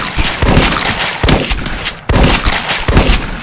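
Shotgun blasts in the video game The Last Stand, a run of loud, close booming shots at roughly half-second intervals with brief gaps between bursts, no talking.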